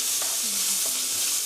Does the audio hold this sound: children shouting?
no